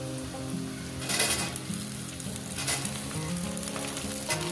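Potatoes and okra fry in a pan over medium heat, giving a steady, close sizzle with bursts of hissing spattering, while a low tonal hum sounds underneath.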